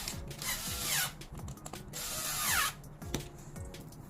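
A power driver drives screws into a stroller trolley adapter during assembly, giving two sustained whirring bursts with ratcheting clicks in between, loud and close, with no talking.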